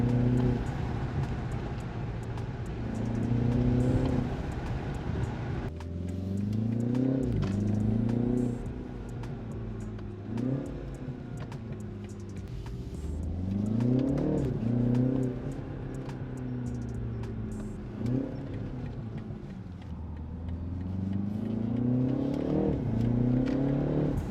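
A BMW engine in Sport mode answers repeated throttle inputs, its revs climbing and falling back in about five distinct swells over a steady idle, heard up close with no talking.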